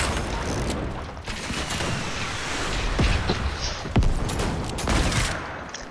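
Rapid bursts of gunfire from a slow-firing weapon in the Fortnite video game, dense crackling shots mixed with mechanical clicking and a few sharper individual reports, loud and continuous.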